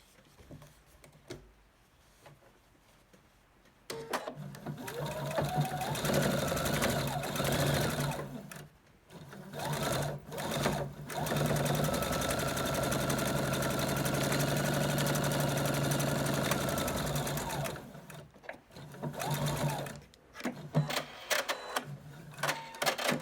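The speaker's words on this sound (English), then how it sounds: "now we're ready to sew these 2 together" A domestic sewing machine stitches quilt block pieces together for a Hunter Star quilt, running in steady motorized bursts with short pauses between seams, close and alone with no talk.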